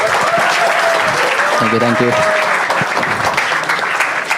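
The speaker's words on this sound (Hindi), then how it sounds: "सूरज गुंजाल के लिए एक बार जोरदार तालियां यार।" Studio audience on an Indian comedy talent show claps loudly and steadily, with cheering under a brief spoken thanks and a soft musical tone in the background.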